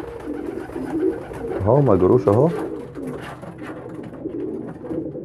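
Pigeons cooing close by, one loud rolling coo rising and falling in the middle, with softer coos around it and someone talking over the birds.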